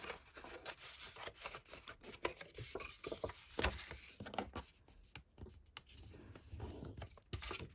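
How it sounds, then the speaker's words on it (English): Firm rubbing and rasping strokes of a tool burnishing score lines on a paper pop-up diamond card, close and fairly quiet, repeated in an irregular rhythm with no talking. "you need to burnish every single score line, so we can have this card really nice and crisp"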